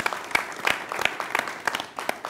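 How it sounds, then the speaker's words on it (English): An audience at a panel discussion on innovation and industry claps, a short burst of moderately loud applause with distinct individual hand claps. "Can we get a round of applause there, ladies and gentlemen?"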